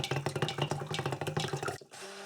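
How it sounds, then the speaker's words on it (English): Stick blender mixing cold process soap batter to a light trace: a close, pulsing whirr with rapid rhythmic churning that cuts off abruptly into a low steady hum. "bring it to quite a light trace with the stick blender"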